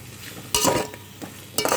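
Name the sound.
stirring carrot and tomato pieces in a pan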